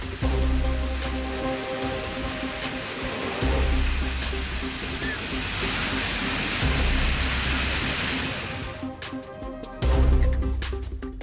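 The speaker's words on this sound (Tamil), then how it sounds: "திருப்பத்தூர் மாவட்டம் ஜலகம்பாறை நீர்வீழ்ச்சியில் வெள்ளப்பெருக்கு." Jalagamparai waterfall in Tirupattur district, swollen and flooding after heavy rain, gives off a constant rushing roar of water with a faint tonal hum behind it, steady throughout.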